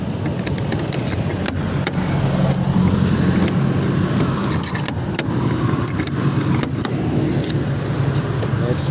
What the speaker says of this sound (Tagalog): So guys, sasakay na tayo sa ating truck